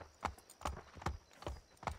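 Horse hooves in Assassin's Creed III, a steady clip-clop of five evenly spaced, fairly faint hoofbeats at a walking pace, with no voices.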